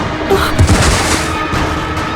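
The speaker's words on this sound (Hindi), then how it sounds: "गोली मार दी," A gunshot fired during a confrontation in a horror drama scene, a single loud boom standing out from a noisy background, with no speech.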